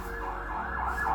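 A fire engine siren wails steadily as the truck passes outside, its rising and falling tone carrying over a low rumble of road traffic, fairly loud and continuous with no talking.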